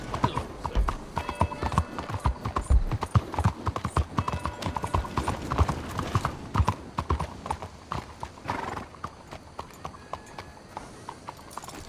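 A horse gallops steadily through Red Dead Redemption 2, with dense, rapid hoofbeats loud and close for most of the stretch, easing somewhat toward the end.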